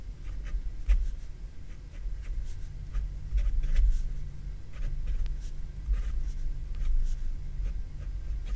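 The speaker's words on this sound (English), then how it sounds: "And that's putting down plenty of ink on the paper." A Picasso 902 fountain pen writes on paper in short, repeated scratchy strokes, close and quiet, with a faint low rumble underneath and no talk.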